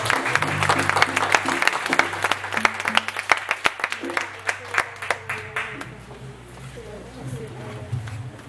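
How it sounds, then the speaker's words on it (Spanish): Church congregation applauding, with dense clapping that fades toward the end, under a voice speaking and sustained organ or keyboard tones. "vamos a darles un aplauso al Señor"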